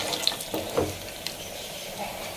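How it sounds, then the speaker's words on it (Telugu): Mustard seeds and chana dal crackle and sizzle in hot oil in a pan, with quiet popping and a soft frying hiss, brief spoon clinks, no talk. "ఇక ఆవాలు వేసానండి, ఆయిల్ వీటెక్కింది. అలాగే శనగపప్పు గింజలు కూడా వేసాను నేను."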